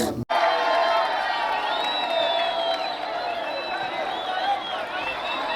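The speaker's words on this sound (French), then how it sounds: "C'est l'entrée du M23 à Bukavu, applaudi par toute la population." Crowds in the streets of Bukavu cheer and whoop as M23 fighters enter the city, a loud, sustained roar of massed voices with shrill, rising shouts cutting through close by.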